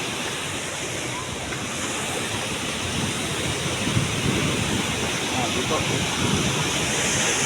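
Bibit Falls pours as a continuous, broad rushing roar of falling water, steady and close, with a brief spoken word over it.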